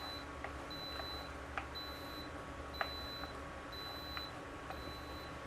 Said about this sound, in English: It will beep when you do that.